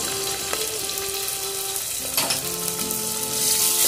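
Turmeric going into a hot pan for dalcha and being stirred, a steady loud sizzle and fry with a few soft scraping strokes, rising toward the end, no talk.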